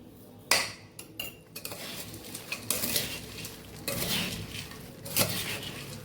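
A spoon scrapes and clinks against a metal bowl while jhal muri, a Bengali puffed-rice street food, is mixed. The clatter is close and comes in irregular bursts.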